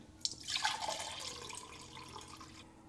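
Water pouring into the tank of an AR635 wall-mounted pressure washer, a steady splashing trickle that starts with a sharp splash, runs for a couple of seconds and then stops, close and fairly quiet.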